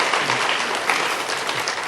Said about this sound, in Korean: 여러분 박수로 환영하시기 바랍니다